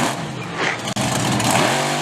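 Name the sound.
monster truck engine revving at high RPM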